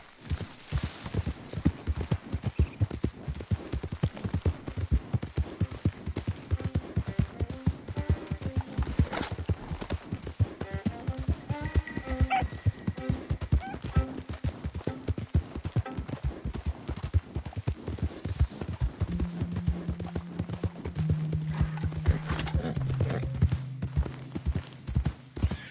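Horse hooves pound in a steady galloping rhythm throughout in the video game Red Dead Redemption 2, loud and close, with a neigh early on and other game sounds layered underneath.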